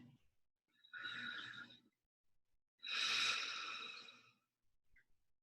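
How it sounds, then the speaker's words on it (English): Two long, slow exhalations through the mouth, breathy and airy, separated by a quiet pause; the second breath is louder and longer. "Still breathing in through the mouth and out through the mouth."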